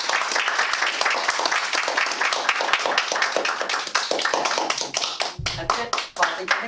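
A small Toastmasters meeting audience claps for an evaluator award, a close, lively burst of hand clapping that thins into scattered claps near the end, with some voices mixed in.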